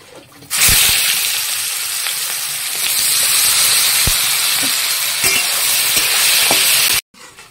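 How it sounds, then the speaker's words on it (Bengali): Onions hit hot oil with bay leaf and nigella seeds and erupt into a loud, steady sizzle that holds for several seconds, with a few clinks of stirring, before cutting off abruptly. "পেঁয়াজগুলো আমি সুন্দর লাল লাল করে ভেজে নিয়েছি"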